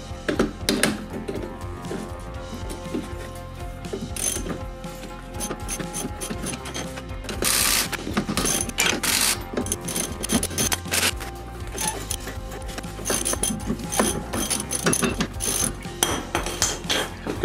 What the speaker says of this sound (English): Let's get that U-bolt off of there.